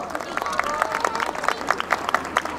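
Outdoor crowd applause after a yosakoi dance team's festival performance, rhythmic bursts of clapping mixed with crowd noise, while an announcer talks over it.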